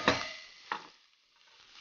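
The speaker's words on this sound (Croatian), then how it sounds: "I miješajući pržimo na srednje jakoj vatri" Chopped onion frying in oil in a pan over medium heat, quietly sizzling, with two short bursts of stirring.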